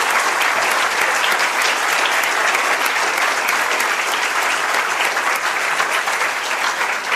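A lecture audience applauds, sustained dense clapping filling the room evenly from start to finish with no talk over it.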